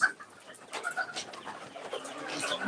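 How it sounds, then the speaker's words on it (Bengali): Egyptian Fayoumi chickens on a farm in Ullapara, Sirajganj, give scattered clucks and soft coo-like calls, close and fairly quiet, with brief chirps rising and falling. "আপনারা দেখতে পাচ্ছেন মিশরীয় ফার্মি মুরগি মাসাল্লাহ কতটা দেখতেও যেমন সুন্দর"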